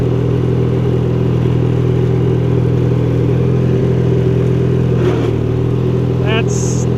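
A 1983 Craftsman GTV/16 Varidrive garden tractor with a snow blower runs in second gear, its engine droning loud and steady with a constant mechanical whir and clatter close up, while someone talks over it.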